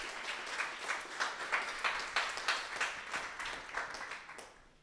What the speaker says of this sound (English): You can have a round of applause.